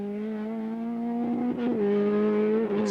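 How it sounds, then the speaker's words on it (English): An Opel Ascona 400 rally car at a 1987 Cork rally stage holds a steady, buzzing engine note with a slight uneven stutter midway, loud and close, with no talk. "but listen for that misfire."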